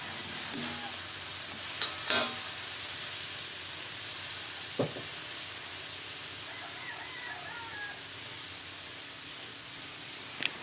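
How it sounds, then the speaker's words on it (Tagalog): Sliced papaya drying out in a hot pan before coconut milk goes in, with a continuous sizzle and hiss broken by a few sharp stirring scrapes and clicks of the utensil. "Ang gagawin natin guys ay patutuyuin muna natin ang papaya"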